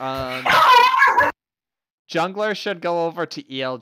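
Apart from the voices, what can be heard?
dog barking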